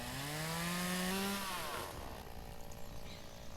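A loud video game chainsaw in Farmers Dynasty revs high while cutting wood, then its pitch falls away into a rough, sputtering idle that continues steadily.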